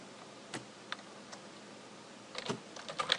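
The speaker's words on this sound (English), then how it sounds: "we can type sudo change owner" A handful of faint, sparse keystrokes on a computer keyboard entering a sudo change owner command, a few isolated clicks followed by a quicker cluster of taps at the end, quiet and alone.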